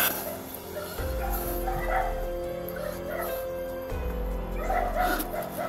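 A dog barks and yips repeatedly at close range, with short whimpering cries mixed in over a steady background hum; no one speaks.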